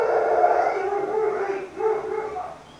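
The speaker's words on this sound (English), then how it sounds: "there's my big loud dog." A dog howls in a long, wavering, loud cry close by, with no other sounds.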